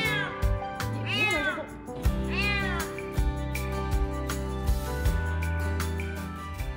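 A frightened kitten, just rescued from a pond in a plastic box, gives several loud, close, wavering meows in quick succession, with faint clattering and background hum between cries.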